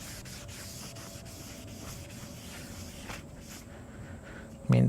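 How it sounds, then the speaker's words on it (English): Brake cleaner sprays steadily onto a new front brake disc for a 2.2L 5S-FE Toyota Camry, a continuous close hiss lasting throughout, ending with a brief louder burst. "we're going to go ahead and brake clean it off on the outside"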